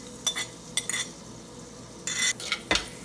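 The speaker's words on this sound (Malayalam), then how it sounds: "ഇപ്പോൾ ഇഞ്ചിയും വെളുത്തുള്ളിയും പച്ചമുളകും നമുക്ക് ആ എണ്ണയിലേക്ക് ചേർത്ത് കൊടുക്കാം" Ginger, garlic and green chillies stirred into hot oil in a pan for salmon fish curry, with a spoon clinking and scraping against the metal in short bursts and a faint background hiss.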